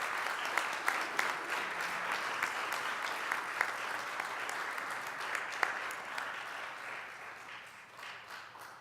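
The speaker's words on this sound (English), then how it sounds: "Let's give her a big round of applause." Audience applause at a city council regular meeting, steady clapping that carries on for several seconds and slowly fades, heard fairly faintly.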